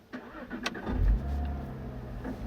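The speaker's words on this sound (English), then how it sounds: "I love the way the engine sounds when you leave it in sport mode" A 2016 Cadillac ATS-V with a 6-speed, left in sport mode, fires up with a sharp crack and settles into a loud, throaty idle close by, with no voices over it.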